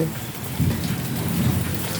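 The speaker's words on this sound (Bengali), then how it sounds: "বৃষ্টির জল ঝরে ঝরে পড়ছে।" Rain falls on jasmine flowers as a dense, continuous wash of drops with a low rumbling undertone, close and fairly loud, with no talking.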